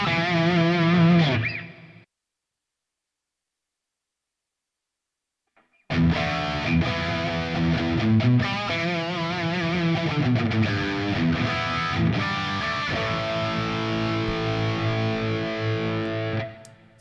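Electric guitar played through a heavy distortion tone, loud sustained chords ringing for about two seconds, a pause of silence, then a longer stretch of driven riffing with bends and chords that cuts off at the end.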